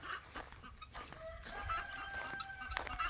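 A mother hen sitting on her chicks gives soft, low clucks, faint and close, along with a few thin higher peeps.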